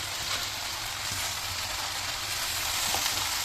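Eggs, tomato slices and chopped coriander frying with vegetable noodles in a hot pan for an iftar dish, giving a steady, dense sizzle throughout with no talk.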